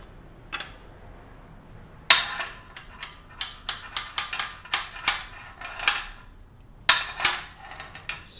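A Vise Grip square shank bar clamp is tightened on a welding setup, giving a series of sharp metallic ratcheting clicks and clanks in irregular bursts, close and fairly loud with short pauses between.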